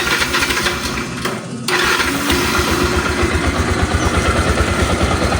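A Yamaha YTX 125 motorcycle engine, with a faulty taillight, runs at a steady idle, its close, loud, even putter continuous after a brief dip in level.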